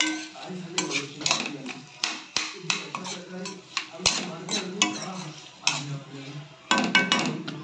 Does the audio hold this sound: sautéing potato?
yes